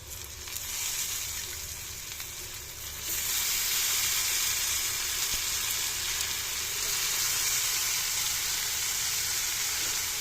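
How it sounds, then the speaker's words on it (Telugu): Onion pieces sizzle and fry steadily in a pan for egg curry, a continuous bright hiss that grows louder after a few seconds and stays close and even, with no talking. "ఉల్లిపాయ ముక్కలు అయితే బాగా వేగుతున్నాయి కదా ఫ్రెండ్స్"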